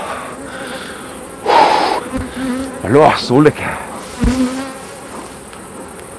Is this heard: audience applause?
no